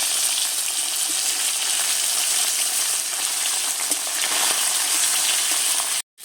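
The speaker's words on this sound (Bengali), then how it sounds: "মাছগুলো পিঠ ঘুরিয়ে ভেজে নিচ্ছি।" Fish fry in hot oil with a constant, close hiss and crackle, with faint turning noises, before the sizzle cuts off abruptly at the end.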